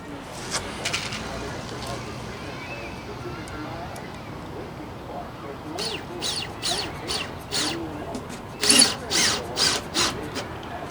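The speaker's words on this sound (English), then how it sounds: "Got to screw them in there with some deck screws." A power drill drives deck screws into wooden trim pieces, with short whirring bursts heard faintly at first, then louder in a series of repeated pulses near the end, with talking underneath.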